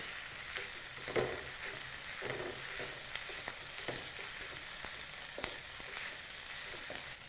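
Ginger garlic paste fries in a hot pan for masala prawns, a soft continuous sizzle with occasional scraping taps of a spoon stirring, fairly quiet and without voices.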